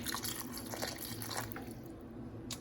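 Broth poured into a slow cooker of beef stew, a steady liquid trickle and splash heard close up and fairly quiet, continuing for a few seconds without talk.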